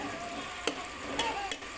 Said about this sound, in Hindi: प्याज ऐड कर देते हैं। ये प्याज हम हल्के ब्राउन करेंगे।